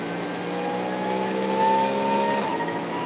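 A race car in a VLN endurance race at the Nürburgring Nordschleife enters the Arenberg corner, its engine a loud, continuous high-pitched howl with rising and falling tones as it brakes and accelerates.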